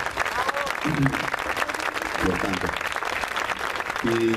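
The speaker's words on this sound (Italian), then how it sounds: "un grande applauso lo faccio io e la mia famiglia a voi" A crowd applauds at an outdoor concert-style event in Cesenatico, with sustained clapping and crowd noise and brief voices cutting through.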